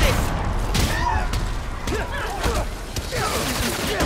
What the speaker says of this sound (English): This explosion was your fault!